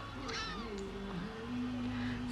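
A cat meows repeatedly nearby, a few drawn-out, wavering cries that rise and fall over a low background hum.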